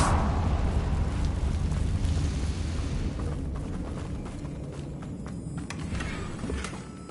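The Confringo blasting spell in Hogwarts Legacy erupts with a loud, close explosive burst and a long rumbling tail that slowly fades, with scattered debris crackles near the end.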